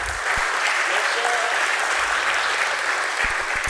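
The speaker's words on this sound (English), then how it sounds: "A round of applause, please." An audience at a stock exchange listing ceremony for a wealth management firm applauds steadily, dense sustained clapping filling the whole stretch without talk.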